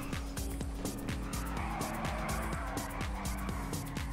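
A car in the video game GTA 5 drives with a steady engine hum and repeated tire squeals and skids, loud and continuous throughout.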